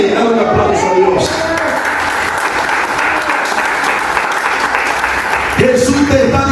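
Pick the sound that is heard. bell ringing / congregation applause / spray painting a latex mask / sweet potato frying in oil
congregation applause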